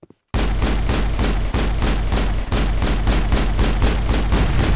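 Weapons fire in Mass Effect 1 is heard as loud, rapid, evenly repeated shots in a dense burst lasting several seconds, with two brief gaps after a short silent start.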